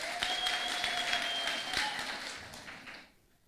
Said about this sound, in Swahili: Hebu apigieni makofi